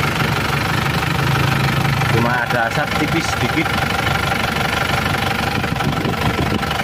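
A car engine idles with a steady mid-pitched rumble and light knocking throughout, close by, with someone talking over it.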